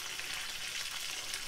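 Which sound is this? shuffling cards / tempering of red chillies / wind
tempering of red chillies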